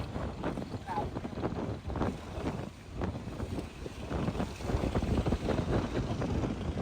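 A tour boat sits on the sea near Phi Phi Island, with a low engine rumble, water and wind buffeting the microphone, and people talking over it throughout.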